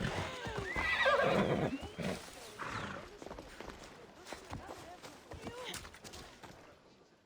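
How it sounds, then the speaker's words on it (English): A loud horse whinny in Assassin's Creed Odyssey rings out near the start, followed by softer snorts and shuffling while someone talks over the rest. "That's a nice horse, Socrates."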